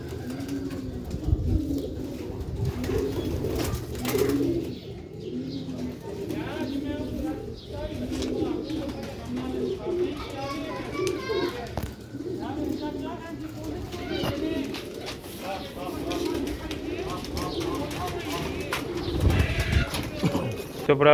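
Pigeons on a rooftop coo softly in low, repeated murmurs beneath steady conversation from someone talking close by, with faint bird calls scattered through the background.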